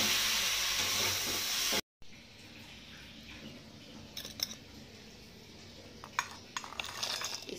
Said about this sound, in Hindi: अब इसको अच्छे से हम भूजेंगे।